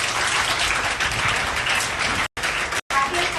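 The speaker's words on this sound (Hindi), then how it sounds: "सब बच्चे जोरदार खड़े होकर तालियां बजाएंगे।" School children standing for an ACP's visit to a school applaud in a dense, continuous wash of clapping, loud and close, broken by two brief dropouts near the end.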